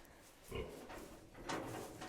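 A single farm pig gives two low, short grunts about a second apart, fairly close and quiet against a faint background.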